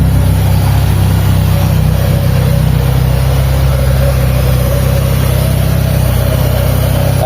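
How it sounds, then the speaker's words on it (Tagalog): Mitsubishi Lancer with a 4G13 engine running after its first start, a loud steady idle hum with a constant low drone close to the microphone and no talking over it. "Pero sa ngayon, ayan, maandar na yung makina natin."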